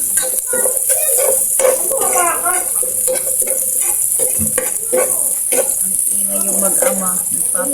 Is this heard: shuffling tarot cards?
no